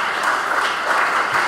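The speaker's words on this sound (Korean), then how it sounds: "하나님께 영광의 박수 돌려드립니다." A crowd claps steadily and fairly loudly throughout at a graduation ceremony, a dense, even wash of applause with no voices standing out.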